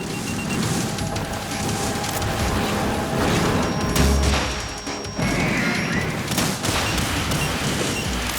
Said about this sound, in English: Oh, stop it with your missiles! Unlimited missiles!